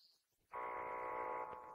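Steady electronic buzzing alarm on a door in Minecraft's Tekkit mod, set to DEFCON 3, kicking in abruptly and droning at an even, harsh pitch for over a second before easing slightly.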